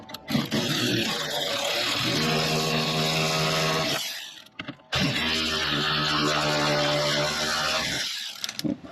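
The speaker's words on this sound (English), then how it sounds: "we're just going to take our electric ratchet and bring it up." An electric ratchet tightens a nut on a classic Fiat 124 Spider transmission mount, giving two loud whirring bursts of a few seconds each, separated by a short pause.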